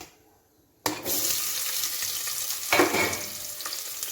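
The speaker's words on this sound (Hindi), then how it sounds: "तो अब चढ़ा दी सालन चूल्हे पे। ऑयल ऐड करें। अब इसी में ऐड करूँगी प्याज।" Chopped onions hit hot oil in a pan on the stove for a dunde curry, setting off a sudden loud, steady sizzle that crackles on without a break, with a brief louder flare partway through and no talking.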